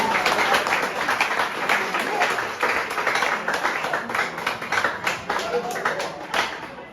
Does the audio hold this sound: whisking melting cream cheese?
no